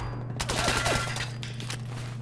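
Rapid bursts of video game gunfire in a post-apocalyptic wasteland shooter, a loud crackling volley of shots clustered over about a second, followed by scattered fainter shots, with no talk.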